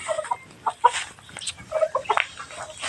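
Native chickens clucking close by, a string of short repeated clucks and squawks coming in uneven bursts against a background murmur.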